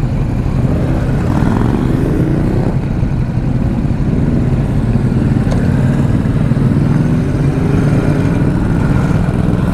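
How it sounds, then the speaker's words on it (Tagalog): A Ducati Multistrada motorcycle engine runs with a steady, loud mid-range rumble throughout, close to the microphone and without voices. "Ganda rin ang tunog ng Multistrada B2S eh, no?"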